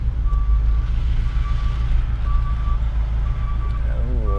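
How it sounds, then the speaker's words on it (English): A truck pulling in with its reversing alarm sounding, a steady series of evenly spaced single beeps repeating about once a second over a loud, deep engine rumble. "we got a truck pulling in"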